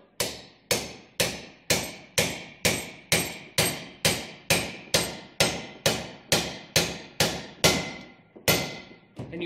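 A race driver is struck with a hammer to seat a new ARB bearing race in the clamshell of a 200 series Land Cruiser front air locker: about sixteen sharp, evenly spaced metallic blows, each ringing and decaying, close and loud.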